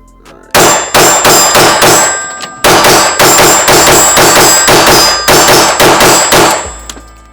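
A Glock 45 and an XR920 firing steel case ammunition: two rapid strings of loud, sharp, ringing shots, roughly nine and then eight in even rhythm, separated by a brief pause, close and with no talk.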